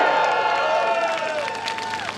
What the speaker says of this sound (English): So let's cheer for that!